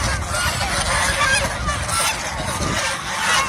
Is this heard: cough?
no